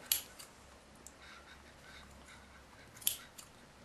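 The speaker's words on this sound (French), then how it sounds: "On enfonce nos ciseaux." Scissors pushed into the seam allowance of a sewn fabric rectangle to notch a soft neck warmer; two faint, crisp snips, one at the start and one near the end, in an otherwise quiet room.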